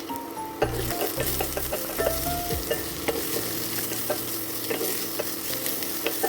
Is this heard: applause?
no